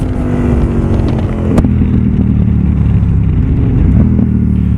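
KTM 990 SMT Supermotard twin-cylinder motorcycle engine running loud and close, a steady throbbing drone with slight rises in revs and a sharp click partway through.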